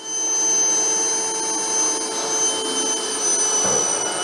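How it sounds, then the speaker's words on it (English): A wet-dry vacuum sucking water out of toilets roars continuously up close, a steady loud motor whine with slight shifts as it sucks, no voices present. "We got our handy dandy vacuum, wet dry vac. It'll suck all the water right out of the toilets."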